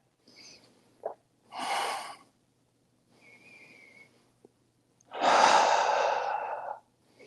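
Slow, deep yoga breaths come in separate drawn-out inhales and exhales with quiet gaps between them, close and airy, with one long exhale standing out near the end.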